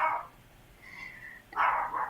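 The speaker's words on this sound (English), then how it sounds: "And my dog's barking." Dog barking indoors during a live stream, two muffled barks with a faint whine between them, heard at a distance and fairly quiet.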